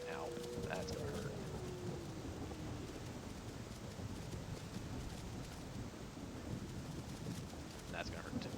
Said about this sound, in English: Oh, and a thunderstorm.